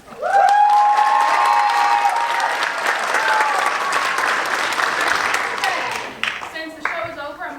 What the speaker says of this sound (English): Come on, guys, come on, you can clap